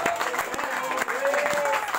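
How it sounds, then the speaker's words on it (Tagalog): A congregation at a Cebuano-language church service claps loudly in praise, sharp rhythmic hand claps rising over reverberant background sound, with a voice mixed in. "Palakpakan nato ang atong Ginoo kusog kapag palakpak"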